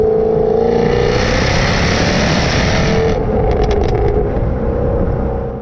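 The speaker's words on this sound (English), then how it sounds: "as I go down the revs, just not going to say anything, but just listen to this. That's a 5-litre V8" The supercharged 5-litre V8 in a Jaguar F-Type AWD revs loud and close, holding a deep, heavy roar with a high whine, then easing with a few crackles as the revs drop.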